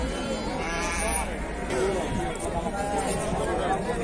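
Sheep bleat now and then at a livestock market amid a steady murmur of crowd chatter, and nearby voices talk throughout.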